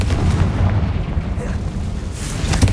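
An explosive Confringo spell blast goes off in a magic-themed video game, a dense low booming rumble that swells and rolls continuously, loud and close, with a sharper burst near the end.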